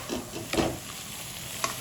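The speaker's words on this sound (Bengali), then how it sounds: "মাংস আমাদের একদম ধরে ধরে কষানো হচ্ছে" Chicken kosha being stirred and fried in a pan, faint scraping strokes of a spoon with a soft sizzle underneath, a few distinct stirs.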